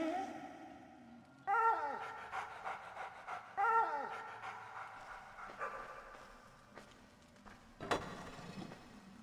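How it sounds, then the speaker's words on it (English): A dog in the dark fantasy game Arx Fatalis pants and whimpers close by in short breathy bursts, a few rhythmic huffs repeating, followed by a faint sharp clatter near the end. "Can you pet the dog in Arx Fatalis?"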